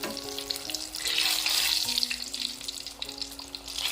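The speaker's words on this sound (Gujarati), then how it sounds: "સમોસા એક બાજુ ગોલ્ડન બ્રાઉન થઈ ગયા છે તો હવે તેને બીજી સાઈડ પલટાવી દઈશું" Vegetable samosas deep frying in hot oil give a steady, close crackling sizzle that runs the whole time, with no talking.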